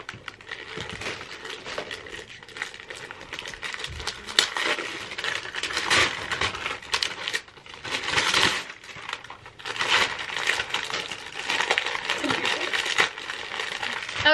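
Crinkling and rustling of Christmas gift wrapping being torn and handled up close, in uneven bursts with brief pauses between.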